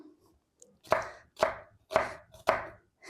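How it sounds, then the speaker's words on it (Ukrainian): Four crisp knife strikes on a cutting board while dicing an onion, evenly spaced about half a second apart, close and fairly loud with quiet gaps between. "беру цибульку, наріжу її кубиком"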